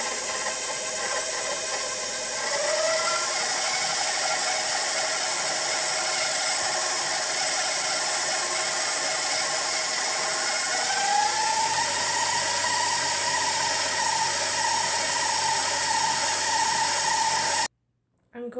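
A stand mixer runs steadily at medium speed while beating sugar lace mixture, a constant mechanical whir with a rattling, gear-like texture that rises in pitch partway through, loud and close, and then cuts out abruptly near the end.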